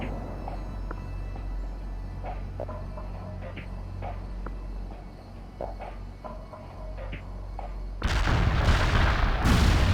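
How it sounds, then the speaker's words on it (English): Heavy artillery barrage in the World in Conflict video game: a low rumbling bed with scattered distant booms, then a loud close burst of explosions near the end. "Heavy artillery barrage inbound."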